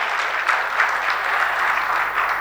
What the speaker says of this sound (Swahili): Naomba tumpigie makofi mengi sana.